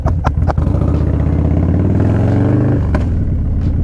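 A motorcycle engine revs hard in first gear, rising in pitch as it accelerates, then drops back with a couple of sharp clattering pops; loud and close.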